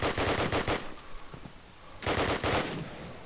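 Gunfire from a Call of Duty: United Offensive match, with two loud bursts of rapid machine-gun shots separated by a quieter gap with a few faint single shots.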